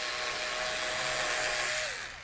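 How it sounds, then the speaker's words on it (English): A power drill bores a hole into a model railroad layout between the tracks, giving a short, steady high-pitched whine that winds down at the end. "I'll just drill a hole"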